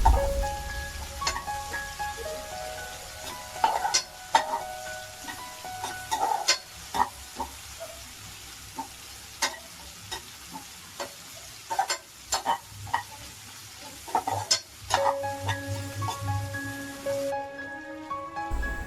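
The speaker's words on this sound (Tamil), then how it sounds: "நல்லா கோல்டன் ப்ரௌன் ஆகிற அளவுக்கு ஃப்ரை பண்ணிக்கோங்க." Chapati pieces fry in a pan until golden brown, giving a low steady sizzle punctuated by frequent sharp clinks and scrapes of a spatula, close and moderately loud with no talking.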